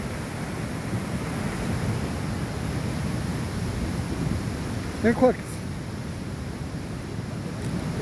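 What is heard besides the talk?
flooding river rushing in Cuenca, Ecuador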